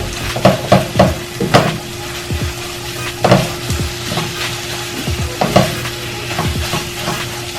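Cheesesteak meat and melted cheese sizzle steadily in a hot pan, a constant hiss broken by sharp scraping stirs and taps of a utensil at irregular intervals.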